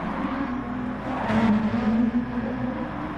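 NASCAR race cars in GT Sport at Mount Panorama roar in a steady, loud engine drone, with a pack of cars whirring past and the pitch swelling as they accelerate.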